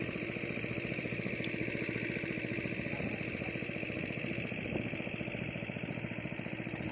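An engine-driven pump drains a pond after harvest, its motor chugging in a steady, even rhythm at moderate volume for the whole stretch, with no talking.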